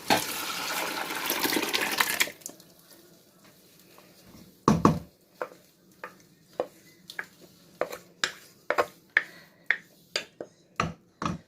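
Thick cooked dal pours and slides from a vessel into a pot of radish sambar, a dense wet rush at first, then a quiet spell followed by a run of sharp, regular taps and clinks near the pot.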